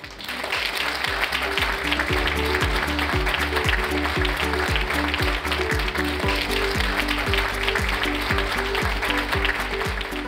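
A large audience at a gala evening for a responsible-business awards ceremony claps loudly and continuously, dense applause with rhythmic beats running under it for the whole stretch.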